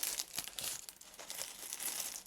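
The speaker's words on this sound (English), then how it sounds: "There's a plastic bag here." Close, continuous crinkling of a plastic bag from a Lego 77071 Supply Llama building set, with small sharp crackles throughout.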